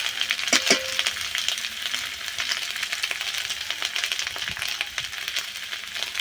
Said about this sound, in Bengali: মশলাটা আবার একটু কষে নেব